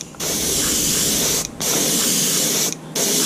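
Fluorescent paint sprayed from an airbrush onto a fishing lure in close, loud bursts: three sustained hisses separated by two brief pauses.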